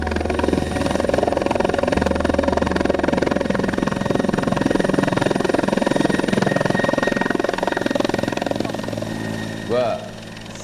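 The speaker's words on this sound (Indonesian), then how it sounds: "lu kok bisa ada helikopter di belakang lu?" A helicopter drones steadily nearby with a rhythmic engine and rotor thrum for most of the span, easing off near the end while voices talk over it.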